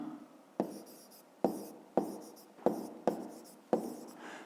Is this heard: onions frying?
no